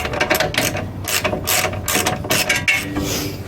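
A hand ratchet loosens a rear hub assembly bolt on an 08-18 Dodge Grand Caravan, giving loud, close, rapid clicking bursts in quick repeated strokes, with no talking.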